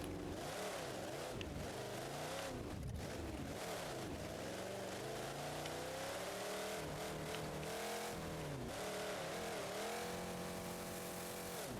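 An engine in BeamNG.Drive roars hard through a clutch drop, lifting the front tire of a Monster Jam truck fitted with quad cantilever suspension. The revving is loud and sustained, its pitch dipping and climbing for about twelve seconds with no talk.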